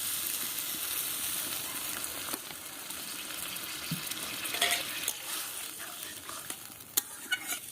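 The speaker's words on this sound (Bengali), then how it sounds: "খুব সামান্য জল দিয়ে দেব।" A splash of water goes into spiced brinjal masala frying in a pan, giving a bright hiss and bubbling sizzle with occasional stirring scrapes and utensil taps, close and steady.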